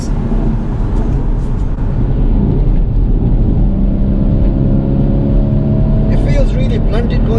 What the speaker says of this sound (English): put it into sports mode. Now the car is quite light, and it's revving.